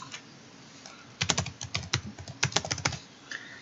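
A short run of typing on a computer keyboard as a password is entered, with uneven bursts of quick key taps, close and clear with no talk.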